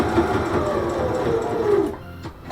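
A sewing machine stitches a passport case, a close, steady mechanical whir for nearly two seconds that stops abruptly, leaving a few faint clicks and handling noises.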